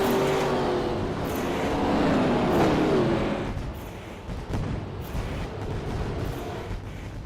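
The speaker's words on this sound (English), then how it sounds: "Fireworks firing off in the distance as fireworks on the track begin." Fireworks go off far away at Eldora Speedway as the All-Star Showdown race gets underway. Their dull booms and cracks sit inside a steady, broad rumble of race cars and track noise that eases slightly after the first few seconds.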